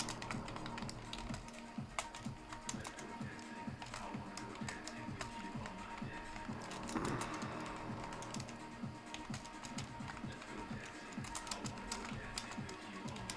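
Steady, close computer-keyboard typing, a dense stream of quick clicky keystrokes running continuously with small pauses and no speech.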